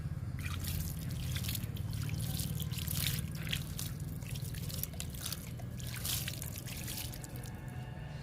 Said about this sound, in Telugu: పొగడ బంతికి వాటర్ ఇస్తున్నాను.